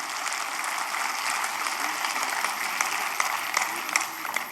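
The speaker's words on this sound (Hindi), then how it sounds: "इस बात पर भी एक बार जोरदार तालियां बजनी चाहिए" Loud, steady applause from a live audience at a Hindi poetry recital, crowd clapping filling the whole stretch with a few sharper claps toward the end.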